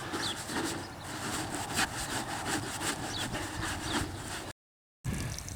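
Soft, worn bristle brush scrubbing grease cutter across a 1998 Corvette C5 engine, giving a continuous close, rough scratching with rhythmic strokes and a brief dropout near the end.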